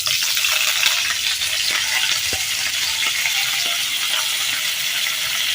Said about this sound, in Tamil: இந்த ஸ்டேஜில் கருவேப்பிலை போட்டுக்கலாம்.